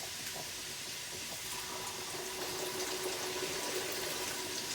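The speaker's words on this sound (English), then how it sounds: "we'll quickly drop a bit of water into there" Water is poured from a drinking glass into a cooking pan while making shepherd's pie, a soft steady splashing and trickling under faint kitchen hiss, with no talking.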